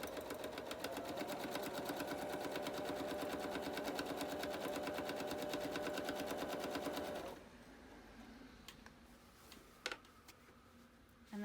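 A sewing machine stitches free-motion stippling on fabric with a fast, steady mechanical chatter for about seven seconds, then stops, leaving faint handling clicks and taps.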